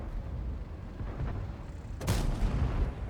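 A KV-2 tank cannon fires in a tank video game, a single loud boom landing about two seconds in over a steady rumbling engine bed, its heavy blast tailing off over the following second.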